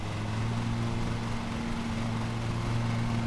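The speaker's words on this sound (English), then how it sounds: "the mowing of the grass sounds really good, because it actually sounds like a real lawnmower" A riding lawn mower in a lawn mowing simulator game drones steadily while cutting grass, a constant engine hum with a low whine, even and unbroken throughout.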